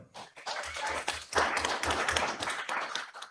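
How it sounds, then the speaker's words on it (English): An audience at a township commissioners meeting claps in a brief burst of mixed applause, fairly close and moderately loud, with some low thumping underneath. "we'll clap for each one"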